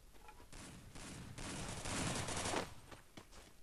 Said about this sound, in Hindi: इतना दूर जाके शॉटगन मारने का ट्राई कर रही है